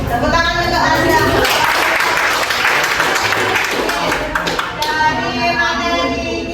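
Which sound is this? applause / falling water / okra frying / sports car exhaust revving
applause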